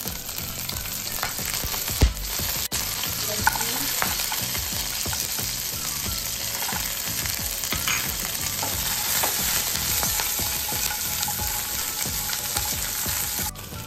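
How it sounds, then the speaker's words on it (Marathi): Cumin seeds crackle and sizzle steadily in hot oil for a Maharashtrian paneer thecha, a dense, close frying hiss with scattered pops and light stirring scrapes throughout. "आता आपल्याला टाकायचं आहे तेल आणि मग टाकायचं आहे तडकायचं जिरं"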